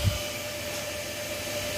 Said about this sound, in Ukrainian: у нас вентилятор пішов